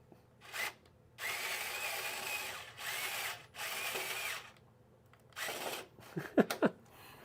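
A power drill whirs in several bursts, driving a screw with a bit that does not seat fully, the motor spinning up and stopping repeatedly, with a few sharp clicks and scrapes at the end.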